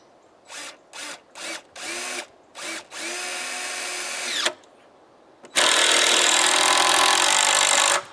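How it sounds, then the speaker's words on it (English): A power drill drives the last screws into a homemade contraption, loud and close. It starts with several short trigger bursts, then runs in long steady whirs separated by a brief pause. "putting the last screws in our contraption here"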